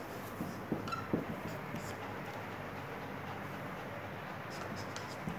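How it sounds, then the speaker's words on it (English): Pen scratches on paper as an accounting formula is written by hand, steady faint scratching under a constant broad background noise. "at first we have to write the formula"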